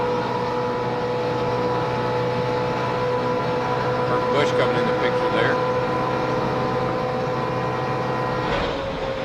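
A pack of NASCAR stock cars holds full throttle in the 2004 Aaron's 499, producing a steady, unchanging engine drone with a passing car rising briefly, heard beneath a race commentator talking.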